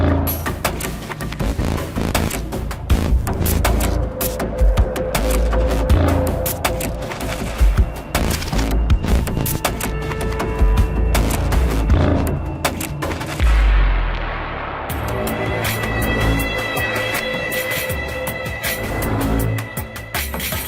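Dense bursts of rapid anti-aircraft gunfire aimed at drones over Damascus crackle continuously at a distance, sharp reports overlapping into a sustained barrage with booming low thuds.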